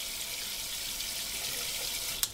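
Tap water running steadily through a Kangen water machine diverter at a sink, a constant close hiss with a small splash or knock near the end.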